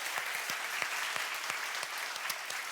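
A church youth congregation applauds at a Sunday worship service, a steady wash of many hands clapping with sharp individual claps popping out, fairly close and continuous, with no talk over it.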